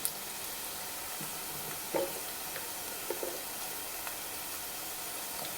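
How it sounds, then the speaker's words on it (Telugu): Onions frying in a pan for an okra curry, a steady soft sizzle with a few light stirring clinks and scrapes, close and fairly quiet. "మనకైతే ఇంకా ఆనియన్స్ అయితే మగ్గిపోతున్నాయి"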